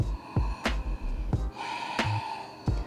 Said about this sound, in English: Breathing in through the nose. Breathing out through the nose.